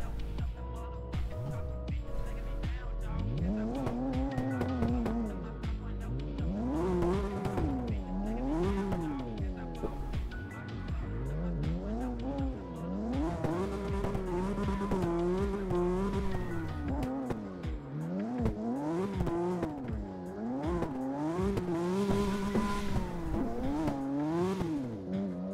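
A car drifts through corners in the CarX racing game, its engine revving and swooping up and down while tires squeal steadily across the whole stretch, loud and continuous, with some talking underneath.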